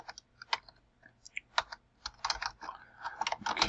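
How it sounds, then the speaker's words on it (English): Close, quick keystrokes tap on a computer keyboard in uneven bursts that grow denser toward the end, with no talking over them. "I'm having trouble typing."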